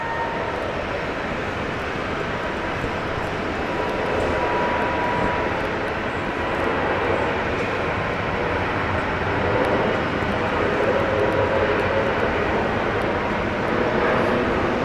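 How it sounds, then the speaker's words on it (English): An Air New Zealand airliner rolling for takeoff at Brisbane International Airport makes a broad, steady jet roar that holds loud and unbroken throughout, swelling slightly toward the end. "how good is to see Air New Zealand rolling now?"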